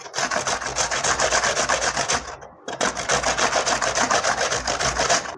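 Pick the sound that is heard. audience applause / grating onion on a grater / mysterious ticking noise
grating onion on a grater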